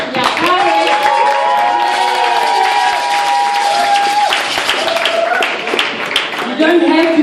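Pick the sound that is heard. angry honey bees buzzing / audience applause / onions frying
audience applause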